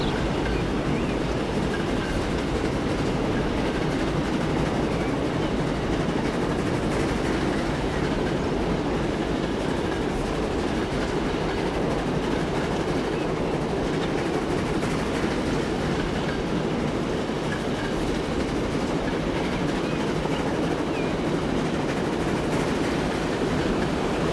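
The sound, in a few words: train running on rails, from video game Transport Fever 2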